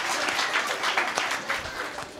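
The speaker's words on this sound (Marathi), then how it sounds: "तुम्ही बघितलं का टाळ्या कुठं वाजल्या?" An audience at a Bailpola special kirtan breaks into brisk, close applause, many hands clapping in a dense, steady patter that holds for a couple of seconds and tapers slightly at the end, with no voice over it.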